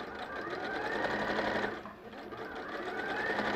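A sewing machine stitches fabric with a steady, close whirring hum and rapid needle chatter, dipping briefly midway before resuming.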